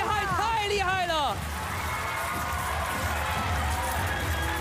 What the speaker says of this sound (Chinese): 掌声不要停！